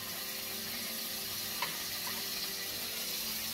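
Chicken frying in hot oil in a pan while cooking pancit, a steady broadband sizzle running throughout with a faint clink partway, no talking.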